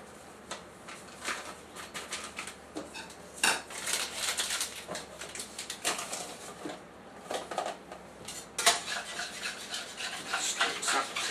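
Metal utensils scrape and clink against a pot of sauce with potato chips and milk in a steady, irregular stirring rhythm, close up, with no voices.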